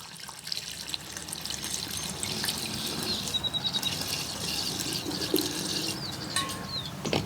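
Gasoline trickles and gurgles through a funnel into a small bottle, a steady close pour of liquid with a few faint drips near the end.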